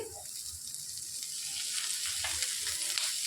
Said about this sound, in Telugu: ఉల్లిపాయలు అనేవి ఇలా వేగినాక ఇందులోనికి పచ్చి బఠానీ వేసుకోవాలండి